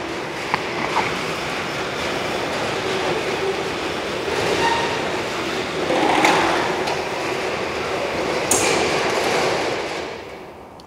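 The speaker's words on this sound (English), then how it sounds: "and the garage door will close." A garage door closes under a Sonoff SNZB-01 Zigbee wireless switch with a long continuous rattling rumble and scattered knocks, swelling midway, then a final clunk as it seats.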